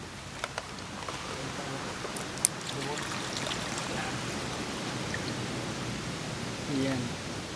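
Water poured into a cooking pot during outdoor home cooking makes a soft, continuous trickling wash that lasts several seconds, with a few faint clicks and knocks and quiet voices in the background.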